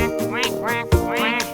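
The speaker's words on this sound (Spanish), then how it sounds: "el pato hace cuac" A cartoon-style duck quacks in a children's animal song: three bright, nasal quacks in even rhythm, close and clear, with one low thump near the middle.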